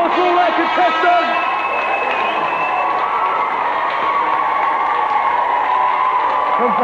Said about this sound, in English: Let's have a big round of applause for all our contestants.